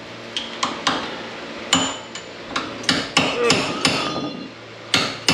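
A hammer strikes repeatedly during front brake work on a 2004 Mustang, a dozen or so sharp metallic blows in an irregular rhythm, fairly close and loud, with no talking.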